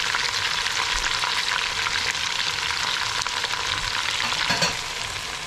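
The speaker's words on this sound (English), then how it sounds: "Going to stir this up, let it cook through for about 5-7 minutes" Onion and green onion sizzle steadily in a pot for salmon chowder with celery, a continuous close frying hiss that carries a few soft stirring scrapes and eases slightly near the end.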